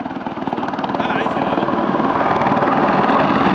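An Apache attack helicopter at an air show demonstration makes a loud, rhythmic rotor thump that grows louder and stays heavy throughout, under a voice talking.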